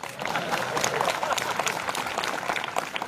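An audience at a Marathi social-awareness kirtan program breaks into scattered, continuous clapping, moderately loud, with voices mixed into the applause.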